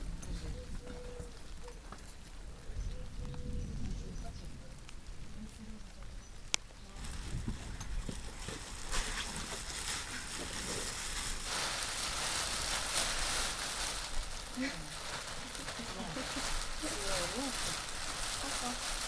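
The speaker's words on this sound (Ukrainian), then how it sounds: "О, дощ пішов." Rain begins falling at an overnight campsite, a dense broadband hiss that thickens into a steady patter, with people talking and moving around nearby and occasional sharp knocks.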